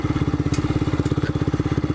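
A Royal Enfield Scram 411 single-cylinder engine lugs at very low RPM in second gear over rocky, stony ground, a loud, close, steady thumping beat with even pulses and no talk.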